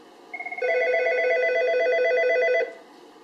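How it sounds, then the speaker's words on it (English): An Algo 8180 SIP audio alerter and a desk telephone ring together in a steady, loud electronic trill lasting about two seconds, following a brief lead-in burst, with no voices. "when you dial 1081, both the telephone and the 8180 will ring simultaneously"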